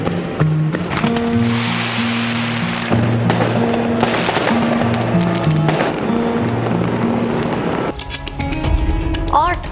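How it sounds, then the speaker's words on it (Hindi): A fireworks display at a festival in Spain, with bursts and crackles mixed under music and a voice talking, ending in a flurry of sharp pops. "शानदार आतिशबाजी से आसमान पर रंगो नूर की बहार"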